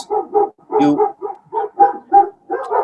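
Dogs barking close by in a quick run of loud, repeated woofs with short pauses between them, with no other sound around.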